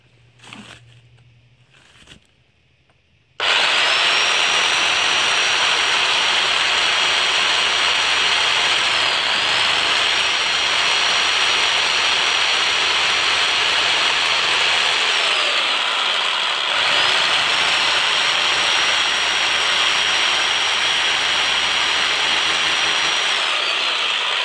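A power drill whines loudly and steadily after a brief quiet start, its pitch dipping twice as it bores into a brick wall.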